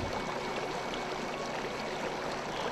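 Small and large rivers flowing through a green mountain landscape in the Alamut highlands, a soft, steady rush of running water, faint and continuous with no voices.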